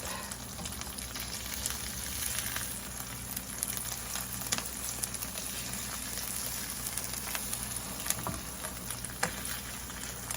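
Egg foo yong patties frying in a pan, a steady, even sizzle and crackle of hot oil that runs without a break, with a few faint clinks, close and moderately quiet.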